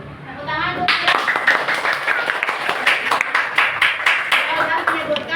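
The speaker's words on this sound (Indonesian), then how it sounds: "Tepuk tangan Bu." Schoolchildren in a classroom clap their hands together in a quick, fairly rhythmic burst, close and bright, with voices mixed in during the clapping.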